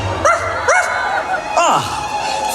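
Ghost dog Zero lets out three short, rising yips and barks at a Halloween party show, close and clear, the last sliding down into a whine over a low background rumble.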